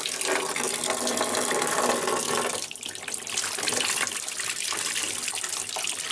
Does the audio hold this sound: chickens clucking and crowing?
no